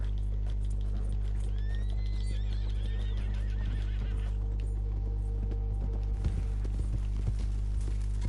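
Horses neigh and whinny in a camp within a PS4 video game, rising calls over a steady low hum with soft hoof clip-clops scattered through.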